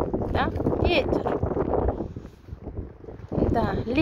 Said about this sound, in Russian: Ветер, да? Ветер.